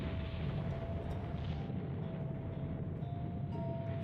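In the Nancy Drew: The White Wolf of Icicle Creek game, an avalanche gives off a heavy, continuous low rumble with broad roaring noise. It stays loud and steady throughout, with no pauses.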